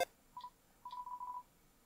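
Telephone dialing in Undertale: a soft beep, a pause, then a quick run of several keypad tones in close succession, quiet and with no one talking.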